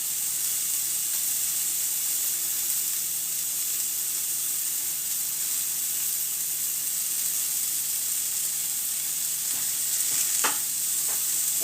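Scallions sizzling and frying in a hot pan alongside onion while cooking tofu steaks and Asian spinach, a steady close hiss with a few brief crackling pops near the end, no talking.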